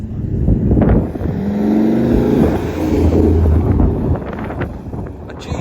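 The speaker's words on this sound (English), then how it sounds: "The Mustang. I love the Mustang." A Ford Mustang passes near a half-barrier level crossing in a residential area, a steady broad engine and road roar filling the clip with a low rumble swelling through the middle, buffeted by some wind noise.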